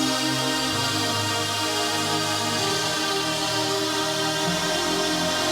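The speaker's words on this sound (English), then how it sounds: "So we have all the synthesizers, we have the piano," A full electronic dance track with layered synthesizers, piano and a bass line plays loud and steady throughout, with no vocals yet.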